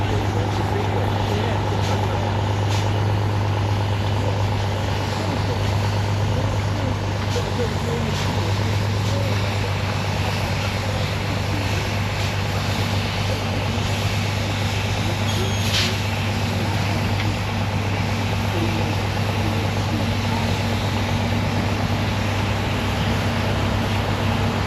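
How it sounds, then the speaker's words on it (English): An International heavy haulage engine strains uphill towing a stalled Marshall traction engine at a steam rally, a steady loud low engine drone throughout with mechanical rumble and people talking in the background. "Here is then the International again, who has come to save the day to pull the poor Marshall traction engine who didn't quite make it up."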